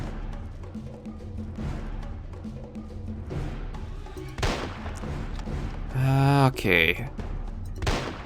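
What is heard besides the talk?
gunfire while hunting dinosaurs in Jurassic Park video game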